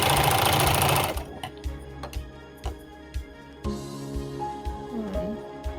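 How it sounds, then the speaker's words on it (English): Overlock machine stitching along a suspender strap for baby pants: a loud, steady whirring run that stops after about a second, followed by a series of short, sharp mechanical clicks and bursts. "Now I overlock the second suspender."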